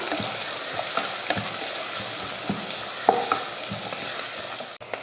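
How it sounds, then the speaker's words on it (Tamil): Chopped onions, cumin and curry leaves sauté in a pan with a steady, close sizzle and occasional scraping stirs throughout. "இதை நல்லா வதக்கிடலாம்."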